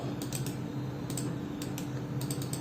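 Rapid, irregular clicks of a computer keyboard during an AutoCAD drawing session, with close, light keystrokes that come in short bursts over a steady low room hum.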